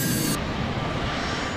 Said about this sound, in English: Captain Morwood performs a brief engine run-up, heating the engines to rid them of any accumulated snow and ice